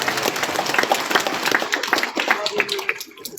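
Audience applause at the opening of a CS50x Indonesia–Harvard University teachers' workshop: a steady patter of hand clapping from a modest crowd, fading slightly toward the end.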